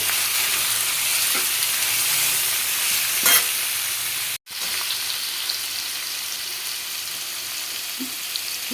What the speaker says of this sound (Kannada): ಈ ಥರ ಮೀಡಿಯಮ್ ಫ್ಲೇಮಲ್ಲಿ ಮ್ಯಾಂಗೋನ ಮಗಿಸ್ತಾ ಬನ್ನಿ